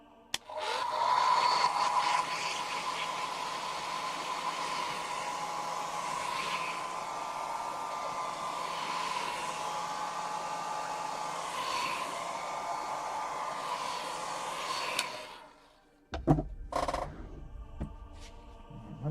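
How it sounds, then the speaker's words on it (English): A hair dryer runs steadily at close range for about fifteen seconds with a bright whine over a broad airy hiss, then switches off, leaving brief clicks and handling noises. "Bit of hair dryer action"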